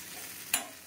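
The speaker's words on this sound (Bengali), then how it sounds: "তাহলে এটাকে ভালো করে কষিয়ে নিয়ে আসছি।" Ground spice paste with onion, ginger and garlic frying in a pan, a soft continuous sizzle with one sharp scrape of stirring midway, close and alone.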